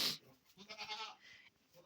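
Goats bleat several times in close succession, nasal wavering calls near at hand with brief gaps between them.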